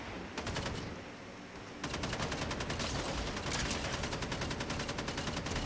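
A sustained stream of rapid gunshots from the video game Fortnite, a short burst followed by a brief pause and then a long unbroken volley, steady and fairly close with no talking.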